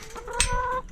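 Close, throaty clucking from chickens, a short burst of overlapping calls with no one talking.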